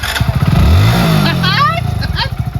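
A motorcycle engine revving up close, rising and falling in pitch, with people talking over it.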